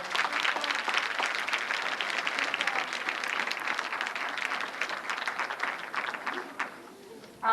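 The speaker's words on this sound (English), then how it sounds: "Give him another round of applause." An audience at a 1992 Dr. King tribute event at Ferris State University applauds in a sustained wash of clapping that thins out near the end.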